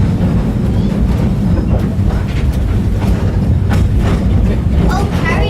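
A train running on rails during a scenic excursion ride, a steady loud rumble of wheels and carriage throughout, with people talking over it.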